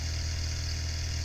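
Small Stirling engine running steadily, a constant low hum and whir with faint mechanical buzz, close by and unbroken with no talk.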